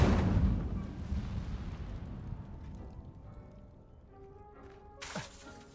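Incendio fire spell in Hogwarts Legacy, a loud booming whoosh of flame that fades into a long rumbling tail, with a short sharp sound near the end.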